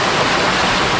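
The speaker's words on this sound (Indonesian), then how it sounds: "air terjun mengerikan lumayan." A river waterfall roars as dense, loud, continuous rushing water, a steady broadband wash with no breaks and no voices.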